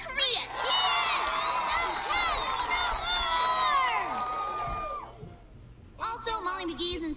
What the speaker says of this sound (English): give a big, the right middle school cheer for Libby!